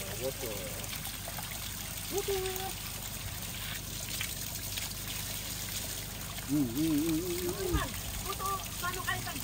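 Drinking water being poured into a container, a soft trickling stream running under casual talk from nearby people.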